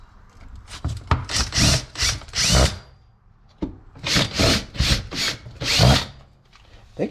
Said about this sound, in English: but I'll drill a 4th hole just in case.